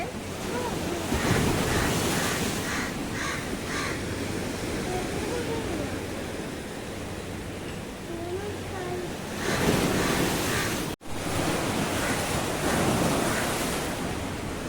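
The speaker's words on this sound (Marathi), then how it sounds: "समुद्र पूर्ण खवळलेला आहे, बघू शकता तुम्ही." Rough, churning sea waves surge onto the shore at Malvan in a continuous roar, with gusty wind buffeting the microphone, swells building near the start and again around ten seconds, and a brief dropout just after.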